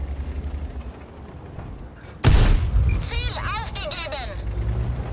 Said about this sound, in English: It's a 100mm gun.